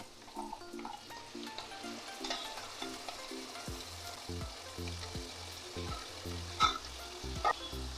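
Spice paste for a vegetarian jackfruit muri ghonto sizzles steadily in a pan, with scraping stirs and occasional louder pops and clinks near the end; no one speaks.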